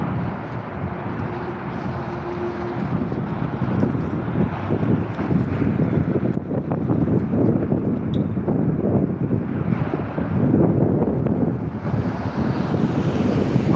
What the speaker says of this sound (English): Somebody asked why it's so windy